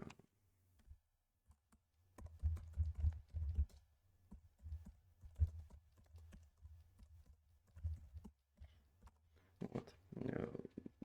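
Keys on a computer keyboard clatter in irregular close bursts as a commit comment is typed, quiet with brief pauses and no speech over it.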